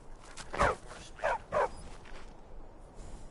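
A war dog in the video game Skyrim gives three short, sharp barks, one then a pair, at moderate distance over a faint background.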